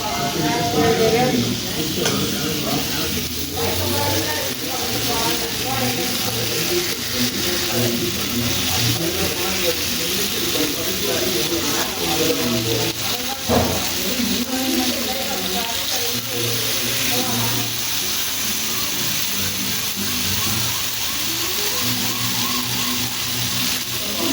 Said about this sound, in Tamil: ஃபிஷ் வறுத்தத்தை பாருங்கள்